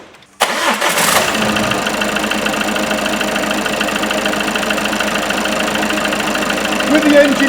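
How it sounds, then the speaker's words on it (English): A Ford Mondeo Mk5 engine cranks briefly, catches and settles into a steady, close idle that holds through to the end. "And now, surprise, surprise, we have to start the car up."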